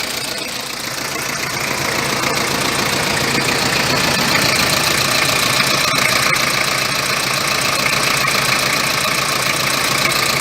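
A 1995 Toyota Hiace with a 1KZ-TE diesel engine that is hard to start runs with a loud, steady clatter. The knocking idle gets a little louder after the first second and keeps going without breaks.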